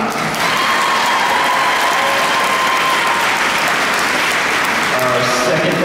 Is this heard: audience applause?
yes